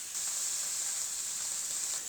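Pork chops sizzling in oil in a pan at medium-high heat, a steady bright hiss that continues evenly and close up without pause.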